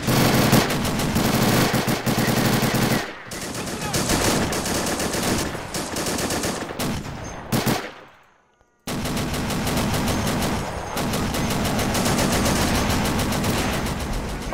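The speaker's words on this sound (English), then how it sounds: "That's a Japanese 75mm anti-tank gun." Japanese 75mm anti-tank gun and surrounding battle fire in a Pacific WWII airfield fight on Saipan in Men of War: Assault Squad, with sustained loud gunfire and blasts, a brief drop to near silence, then heavy firing resumes.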